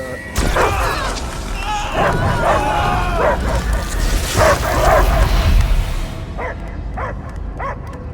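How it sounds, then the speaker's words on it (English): A dog barks and yips repeatedly in a Guardians of the Galaxy game scene, mixed with voices and effects, then a few sharper barks stand out near the end. "I hear only barking"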